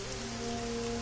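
Steady rain falling on neon-lit city streets in the video game Shadowrun: Hong Kong, a continuous dense hiss with faint tonal hums underneath, no voices.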